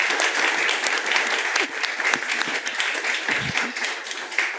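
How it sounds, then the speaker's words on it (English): Sustained applause from a panel-discussion audience on artificial intelligence, dense broadband clapping at steady loudness throughout, with a brief dip near the end. "I will just ask for one round of applause for our..."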